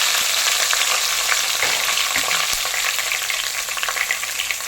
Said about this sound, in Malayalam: ആ എണ്ണയിൽ ഇട്ടിട്ട് നമുക്ക് കുറച്ച് കറിവേപ്പില നല്ലപോലെ ഒന്ന് ഫ്രൈ